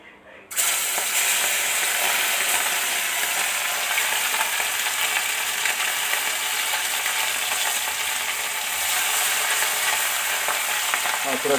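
Small chela fish sizzle loudly in hot oil, a dense steady crackle that starts abruptly after a brief quiet moment and holds throughout with no talking.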